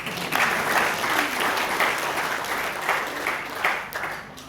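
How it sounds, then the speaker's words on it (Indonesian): A church congregation at a Christmas Eve service gives steady, loud applause for a child, an even wash of clapping that lasts the whole time with no talk. "Tepuk tangan untuk anak itu."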